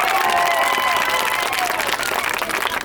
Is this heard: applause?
yes